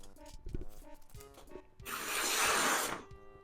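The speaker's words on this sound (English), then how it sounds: "You can see the steel is getting cut by the ceramics because it is getting a grey line where the knife is trailing along" A steel knife blade is drawn along a ceramic toilet lid to sharpen it. A few light scrapes come first, then one long, loud, gritty rasping stroke lasting about a second, close up.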